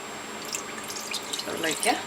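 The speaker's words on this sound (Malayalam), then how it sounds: "ആദ്യമായിട്ട് കുറച്ച് വെള്ളം ഒഴിച്ചിട്ട്" Water is poured into a cooking pot before chicken is added for a chicken-vegetable pie, a short splashing, gurgling pour that swells toward the end, close and moderately quiet.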